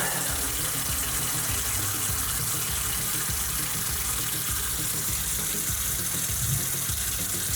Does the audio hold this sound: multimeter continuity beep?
no